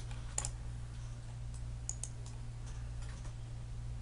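A few quick, faint clicks of a computer mouse against a steady low electrical hum, with no talking.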